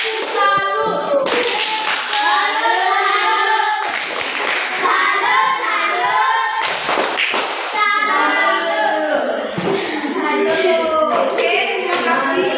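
Schoolchildren in an Indonesian classroom give a salute clap, a burst of many hands clapping together in a rhythmic pattern, mixed with lively children's voices and cheering throughout.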